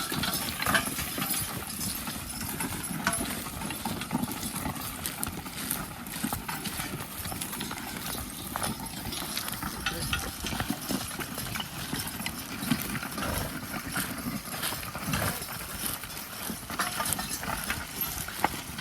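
Three horses pulling a plow through a field, their hooves clip-clopping in a steady, uneven stream amid scraping and rustling ground noise, moderately close and continuous throughout.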